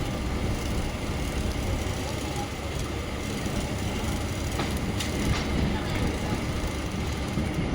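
Train sounds at Chennai Central station: a continuous broad rumble and clatter of rail traffic, with faint background voices and a few brief sharper knocks.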